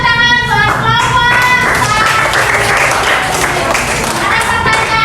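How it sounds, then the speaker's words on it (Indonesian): A school class claps for a group of classmates, lively hand claps mixed with children's voices and a chiming, tonal sound that rings over the clapping, loud and close throughout. "Tepuk tangan buat kelompok."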